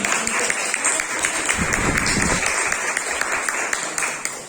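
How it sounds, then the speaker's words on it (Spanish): A church congregation claps during a Sunday service, a sustained wash of many hands at fairly close range, swelling slightly in the middle and holding steady to the end. "Denle un aplauso al Señor, que Él se lo merece"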